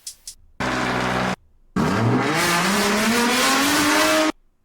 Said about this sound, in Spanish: Vamos a ver el sonido del coche. Que esto ya es el sonido fuerte.